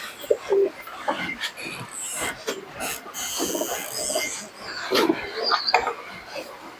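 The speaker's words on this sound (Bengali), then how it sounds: "মাদুল কিন্তু পায়রাগুলো এরপরে পশম উঠলেই ঠিক হয়ে যাবে" Giribaz pigeons cooing close by in short repeated bursts over a busy background of other noise and rustling, with a voice faintly present at times.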